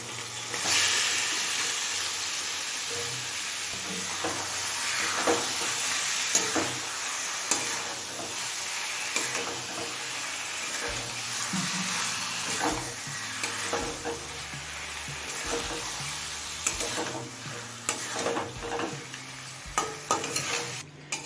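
Chicken liver and stomach sizzle with spices in a pan, a constant frying hiss overlaid by repeated scraping and clinking stirs that grow busier and louder toward the end.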